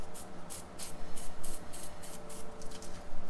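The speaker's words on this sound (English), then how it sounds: "we'll just spray it a little bit with PB Blaster" Short bursts of PB Blaster penetrating oil hiss from an aerosol can onto the hub cap of a 2000 Toyota 4Runner during upper ball joint work, several quick spurts in a row at close range.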